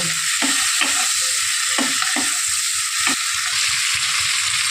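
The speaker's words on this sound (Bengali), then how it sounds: "মাছটা ভালো করে ভেজে উঠিয়ে নেব" Salted, turmeric-rubbed fish fries in oil in a pan, giving a loud, steady close-up sizzle with periodic spatula scrapes and taps.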